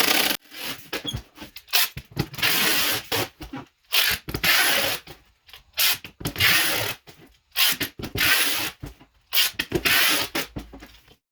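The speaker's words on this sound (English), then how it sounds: "so now we're going to tape this guy down." Packing tape is pulled off the roll and pressed onto a shipping box around wheels and tires, in repeated loud ripping bursts separated by short pauses, with no voices.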